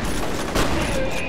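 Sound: shotgun fire in the video game F.E.A.R

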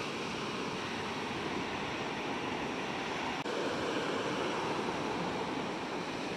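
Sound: sea waves on the beach at Padang

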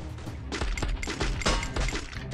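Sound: gunshots in a video game

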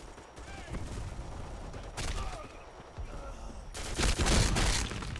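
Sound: gunfire from the video game Black Squad

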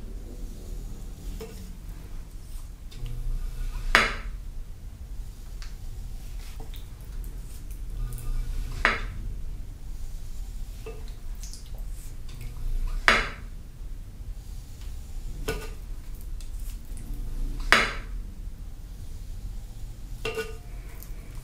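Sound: faceting tool cutting a clay bowl

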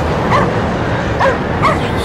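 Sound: dog barking in a video game

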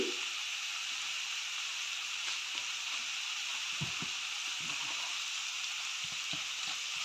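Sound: stirring turmeric into pepper chicken curry in pan

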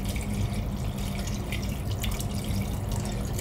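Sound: water poured into a pot of rib and cassava

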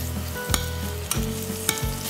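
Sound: pancetta frying in a saucepan with oil

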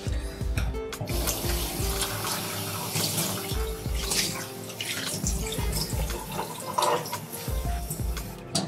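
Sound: washing stuffed bell peppers under running tap water

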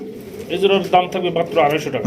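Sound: pigeons cooing

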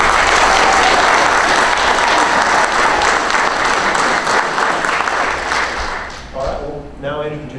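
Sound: audience applause at a sheriff's debate

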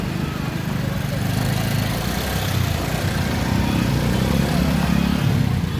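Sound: motorcycle engine idling on flooded road

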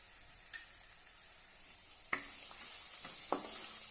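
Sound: sautéing chili powder, salt and black masala

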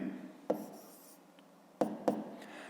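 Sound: writing on paper

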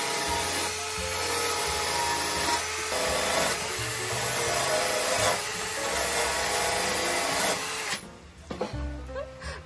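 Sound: polishing brass parts of a La Cornue stove

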